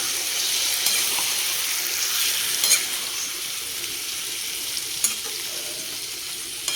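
Biryani meat sizzles in a pot while being stirred, producing a steady frying hiss and bright crackle with occasional scraping stirs and soft clanks, close and fairly loud, with no talking.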